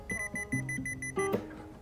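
Nikon Z8 camera plays an electronic beeping shutter sound, a quick run of short tones followed by a brief ascending chime, faint and close.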